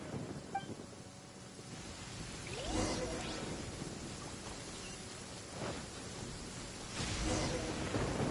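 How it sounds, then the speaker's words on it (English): Lightning storm in Genshin Impact: continuous rain hiss with low rumbling thunder rolling in and out, several soft swells of distant thunder across the stretch, no talk. "Uh-oh! Lightning storm!"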